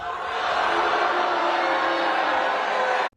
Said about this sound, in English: You hear the reaction from the crowd.